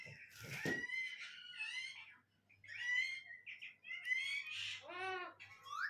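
A pet myna chatters close by in a busy string of squawks, whistles and warbled calls for several seconds, with a low hum underneath.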